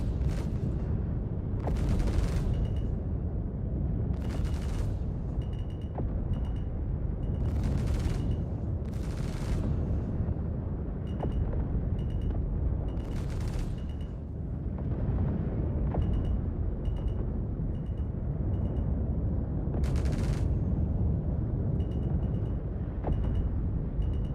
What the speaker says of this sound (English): Glitch, can you fire the guns for me, please?